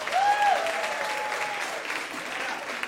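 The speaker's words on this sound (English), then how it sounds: "So just by a quick round of applause, who has been to a Generation Women show before?" A storytelling show audience breaks into quick applause, many hands clapping in a steady roomful wash with a brief whoop or cheer near the start, easing slightly toward the end.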